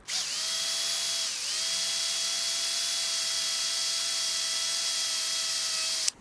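A power drill with a dull bit whines steadily for several seconds, briefly dipping in pitch early on as it strains, then stops abruptly.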